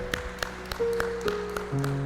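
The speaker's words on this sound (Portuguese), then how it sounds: "Se é você, dê um aplauso ao Senhor." A church congregation claps with sharp, spaced hand claps, moderately close, over sustained tones from an organ or keyboard.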